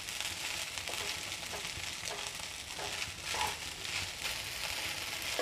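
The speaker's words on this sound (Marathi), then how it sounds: "आपल्याला खिचडी चांगली 5 मिनटं अशीच परतून घ्यायची आहे" Sabudana khichdi is sautéed in a pan, a soft steady sizzle with repeated scraping strokes of stirring, fairly quiet and close.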